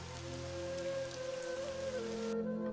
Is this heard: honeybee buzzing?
no